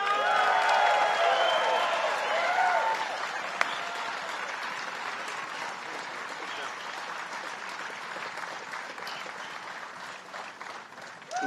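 A large rally crowd at a Workers for Trump event with Mike Pence applauds and cheers loudly, the clapping gradually thinning into a steady, softer patter over several seconds.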